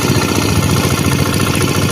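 A farm machine engine runs during land preparation for rice planting. It makes a loud, continuous, steady rumbling drone close by, with no pauses.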